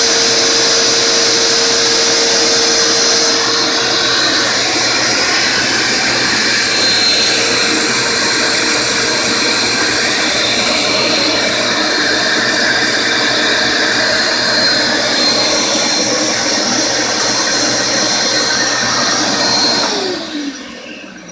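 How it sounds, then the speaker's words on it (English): A Festool shop vacuum runs at full power, a loud, steady, high-pitched whine with a rushing airflow roar that holds for about twenty seconds before spinning down at the end; nobody speaks. "So this is shop vac."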